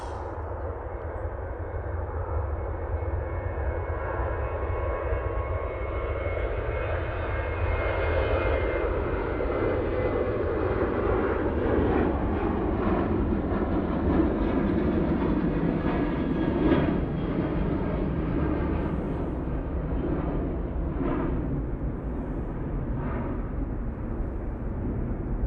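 Ryanair jet airliner on its takeoff roll at Manchester Airport, a loud continuous engine roar that builds and swells steadily with broad rumble and whine, heard alone without talk.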